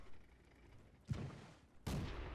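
Two sharp, booming tank gun shots from a T-127 in World of Tanks, fired in quick succession about three-quarters of a second apart over low background hum.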